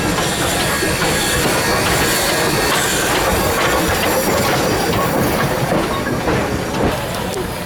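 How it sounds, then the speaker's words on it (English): Flag Coal Company No. 75 steam locomotive rolls past at a train expo, a dense, steady rumble with hiss and rail clatter, loud and close throughout. "Flag Coal Company number 75 brushes past, doing some excursions with some passengers learning how to drive a steam locomotive."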